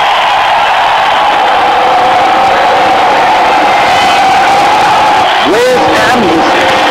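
Stadium crowd cheering in the cricket video game Real Cricket 2018, a loud, continuous roaring wash of massed voices with a rising whoop near the end.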